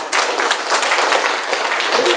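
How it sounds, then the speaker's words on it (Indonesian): Steady applause from a crowd, dense clapping that continues evenly throughout with no voices standing out. "Tepuk tangan."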